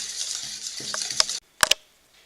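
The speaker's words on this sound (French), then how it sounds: "Et on recommence le mélange." A whisk or spoon works through cake batter for a zebra cake after milk and sunflower oil go in, giving soft wet scraping and a few light clinks against the bowl before a brief pause and two sharp taps.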